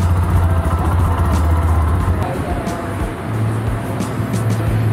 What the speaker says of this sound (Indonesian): Ini enjin dia.